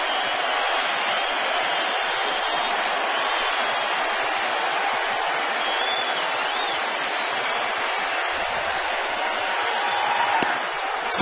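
Large crowd at a packed Texas Rangers ballpark during a late-inning Cubs matchup, a steady broadband roar of cheering and applause sustained throughout, swelling slightly near the end.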